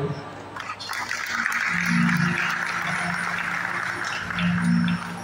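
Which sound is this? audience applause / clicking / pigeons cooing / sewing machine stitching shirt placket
audience applause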